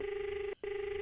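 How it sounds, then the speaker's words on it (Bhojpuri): A steady phone tone rings out alone, cut by a brief gap near the middle before resuming, as a late-night call is placed. "केकरा फोन लगाता नहीं आधी रात के?"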